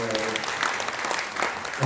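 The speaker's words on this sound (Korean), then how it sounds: "다시 한번 힘찬 박수 부탁드리겠습니다." Audience applause at a Korean speaking contest for migrants, a steady wash of clapping filling the short stretch at moderate level with some faint voices mixed in.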